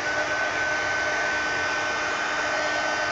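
A hair dryer blows steadily on an inky rooster painting to dry the paint, a loud, constant close whir with no break and no voices.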